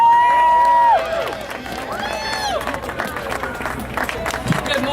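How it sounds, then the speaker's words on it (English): An audience at a public event outside a courthouse applauds and cheers, scattered clapping and crowd noise mixed with whistles, shouts and background chatter for several seconds. "please bring forth with a round of applause Chanelle Hardy"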